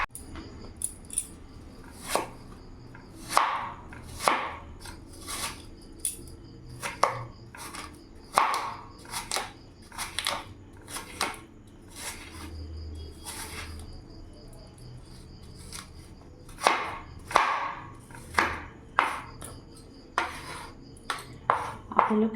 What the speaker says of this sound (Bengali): আপেলটাকেও ছোট ছোট করে কেটে নেব।